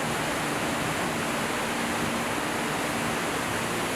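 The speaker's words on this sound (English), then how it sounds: "Victoria Falls is the world's largest waterfall by sheet flow." Victoria Falls on the Zambezi between Zambia and Zimbabwe roars as a dense, unbroken wash of falling water, loud and steady with no voices.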